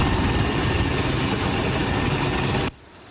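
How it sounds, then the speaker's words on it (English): A helicopter hovers close and loud over the Angeles National Forest while hoisting two injured hikers, its rotor and engine giving a steady rumbling roar that cuts off abruptly near the end. "A helicopter rescue operation in the Angeles National Forest for 2 injured hikers."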